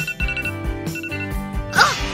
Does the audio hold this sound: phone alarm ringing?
yes